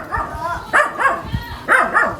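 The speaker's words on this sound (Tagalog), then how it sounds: "Uy, may aso." Close, loud barking from a small, fearful dog at a house doorway, two short clusters of high yappy barks separated by a brief pause, with a faint whimper between them.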